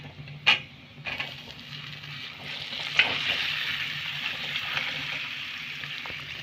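Potatoes frying in hot oil with turmeric and spices in a pan over a medium gas flame for aloo jeera, a steady close sizzle with a few sharp clatters from stirring and tossing.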